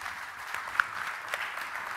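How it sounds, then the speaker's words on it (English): Audience at a talk event applauds a speaker, a fairly faint, steady patter of clapping from a seated crowd that stays even and unbroken throughout. "Ladies and gentlemen, I'd like to invite you to give Mr. Jan Szumski a round of applause"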